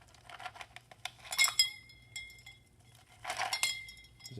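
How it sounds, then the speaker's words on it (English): Ice cubes clink against glass twice in quick clusters, dropped into cooling lauric acid, bright and close in a quiet room. "just add a couple ice cubes to it"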